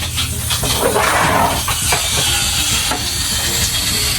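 Hot water tap in a Jayco Eagle RV spitting and hissing as pink antifreeze pushes through under pressure, a loud steady rush with sputtering bursts, no talking.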